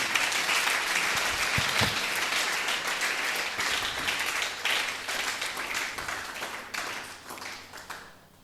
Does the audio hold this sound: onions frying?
no